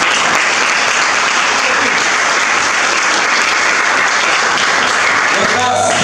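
Church congregation breaking into sustained applause during a Pentecostal service, steady dense clapping filling the room for several seconds with some voices mixed in.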